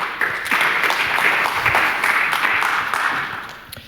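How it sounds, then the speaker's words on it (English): An audience at an industry talk claps for Tony Oehm of AZHOS, a steady wash of applause that holds for several seconds, then thins and fades toward the end. "Please, one round of applause for Tony Oehm."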